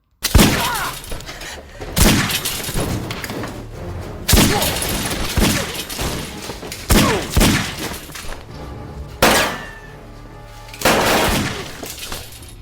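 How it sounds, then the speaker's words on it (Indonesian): Gunfight in an action film, with repeated loud bursts of gunfire and crashing impacts coming in clusters every couple of seconds over a dense, continuous background of action noise. "Namun tiba-tiba John datang lalu baku tembak pun terjadi."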